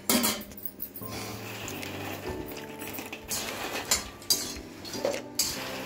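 Ingredients for gond laddoos being stirred in a metal kadhai, with irregular scraping and clinking of a spoon against the pan, fairly close and without talk.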